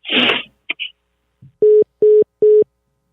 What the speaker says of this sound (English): A beep from my phone.